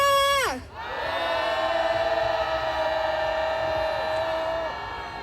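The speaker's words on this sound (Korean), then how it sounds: "분노의 함성 시작" Crowd of marchers at a protest outside the US embassy raising a sustained angry shout that begins right after a voice cuts off, then holds as one long, loud, steady collective roar.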